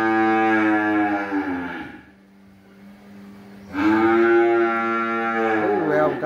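Cattle at a cattle farm give two long, loud, tonal moos separated by a brief lull of faint background noise.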